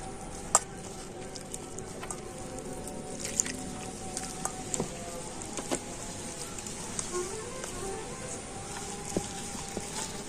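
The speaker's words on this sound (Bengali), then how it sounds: "আর এবার আমি অল্প অল্প করে জল দিয়ে ব্যাটার তৈরি করে নেব।" Wet batter for green mango chop being mixed by hand as water is added bit by bit, giving soft squishing and dripping sounds with faint splashes, close and fairly quiet, with no one speaking.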